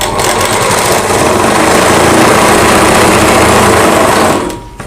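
A sewing machine runs steadily while stitching a Rajputi suit, a continuous close, loud mechanical whir that holds for several seconds before stopping abruptly near the end.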